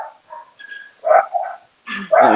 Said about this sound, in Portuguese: Eita, cachorro tá do nada aqui.